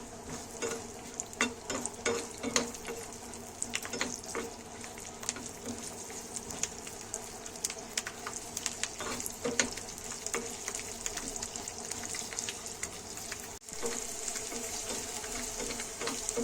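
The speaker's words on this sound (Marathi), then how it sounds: "हा आता आपला जो आहे तो लसूण चांगला भाजून घ्यायचा आहे याच्यामध्ये" Cumin seeds and garlic dry-roasting in a pan for groundnut chutney, giving a faint, steady crackle and sizzle with scattered stirring scrapes throughout and no talk.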